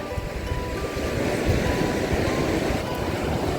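Sea waves breaking on the shore of a winter beach in Odesa, giving a continuous near, loud wash of surf with wind noise on the microphone, heard without talk.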